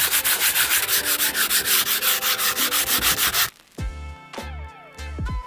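Coarse-grit sandpaper scrubs over the joints of a fingerboard ramp in fast, rhythmic back-and-forth strokes, loud and close, then gives way to lighter, scattered scraping and knocks at the end.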